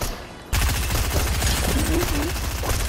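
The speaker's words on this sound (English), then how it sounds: "So that's Sloan's rifle." Sustained rapid rifle fire in Fortnite, a dense run of repeated shots starting abruptly and continuing loud and steady, with faint game sounds underneath.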